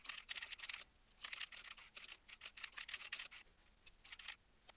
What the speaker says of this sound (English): I'll start typing some stuff out here